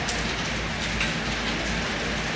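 Steady, dense rain pours down continuously onto surfaces nearby, a loud even hiss with scattered drop spatters and no voices.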